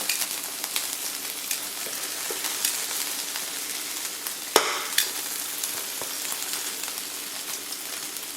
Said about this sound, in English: Alright, and then you're going to fry these on both sides.